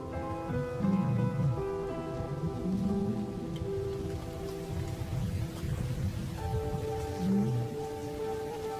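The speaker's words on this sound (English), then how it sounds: "As the storm breaks, a month of pent-up energy is released." A storm breaks over African lion country, bringing steady, fairly loud rain that hisses continuously under a sustained musical score, with no clear thunderclap standing out.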